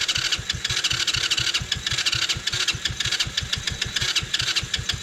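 A Taotao 110cc quad with a failed top end cranks over and over in a fast, even starter rhythm, loud and close, the engine not catching.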